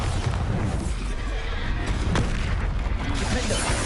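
The Bombarda explosion spell cast in Hogwarts Legacy on PS5: loud, booming blasts and rumbling impacts filling the whole stretch, with combat noise layered on top.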